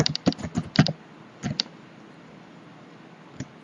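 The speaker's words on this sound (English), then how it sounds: "we typing it project." Quick bursts of clicky keystrokes on a computer keyboard while entering data into a Revit project file, a close flurry of taps followed by a pause and a couple of isolated presses.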